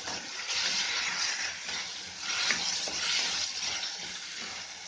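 Potatoes sizzle and fry with onions in a pan over a medium flame, a steady loud hiss running throughout with faint stirring scrapes, and no voices.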